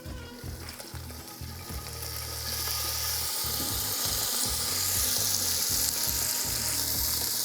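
Beef sirloin strips sizzle and fry in an oiled skillet, a steady loud crackle building over a low rhythmic clatter of meat being moved and stirred in the pan.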